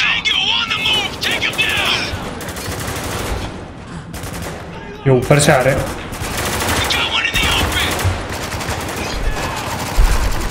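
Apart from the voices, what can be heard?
gunfire in a video game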